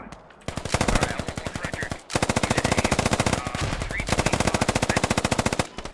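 Automatic gunfire in the tactical shooter game Squad, long sustained bursts of rapid, evenly spaced loud shots, broken by one brief pause before the firing resumes just as dense.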